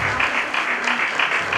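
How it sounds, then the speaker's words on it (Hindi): A church congregation claps together in welcome at a dedication service, a dense, steady wash of hands filling the room with slight swells throughout, no voices standing out. "हम सब ताली के द्वारा परमेश्वर दास का स्वागत करेंगे"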